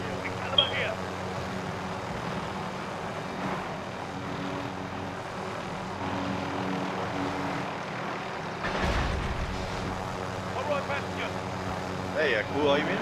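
In the Call of Duty video game, a helicopter's engine drones steadily, with a constant whirring hum and occasional thumps, while players talk over it.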